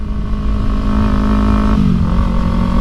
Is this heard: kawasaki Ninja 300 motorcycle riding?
yes